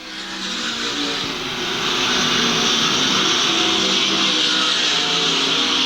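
World of Outlaws sprint cars race at Lakeside Speedway, a dense, steady roar of several engines running together in heavy traffic, growing louder after the first couple of seconds and holding strong to the end.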